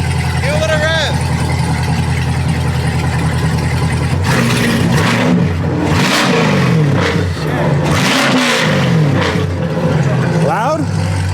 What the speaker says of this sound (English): Rev it a little bit. Give a little rev.